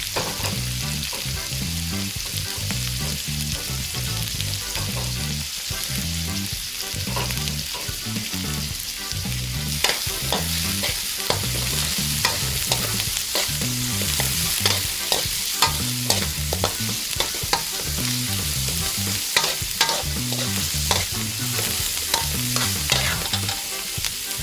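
White onion sautéing with pork tripe in a pan, a steady loud sizzle broken by repeated scraping stirs of a spatula throughout, with no talking.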